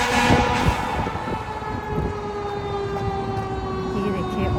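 Police cars followed by fire brigade emergency vehicles pass along a street, sirens wailing in a steady sustained tone over continuous traffic noise, fairly loud throughout.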